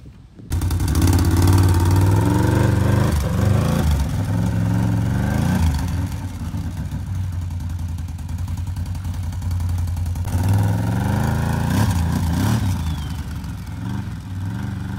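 A Can-Am Renegade ATV with an XMR conversion runs close by for the whole stretch, its engine droning steadily with revs rising and falling, no talk over it.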